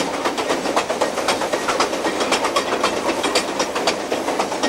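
A diesel locomotive train rolls along the rails, loud and close, with a steady engine roar and a rhythmic clickety-clack of wheels over the track joints throughout.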